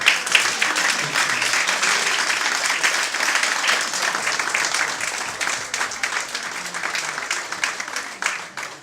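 Sustained applause from a wedding crowd after a speech, many hands clapping steadily and loudly throughout before tapering slightly at the end.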